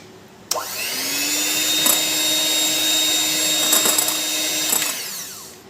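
An electric hand mixer beats eggs for a yellow velvet cake batter, a loud steady motor whine that starts abruptly and runs with a few small bumps before slowing down at the end.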